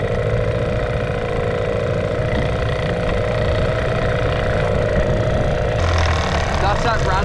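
An outboard motor on a boat runs at full throttle near Great Keppel Island, a steady loud engine drone with a rattling undertone throughout, shifting slightly near the end as someone talks over it.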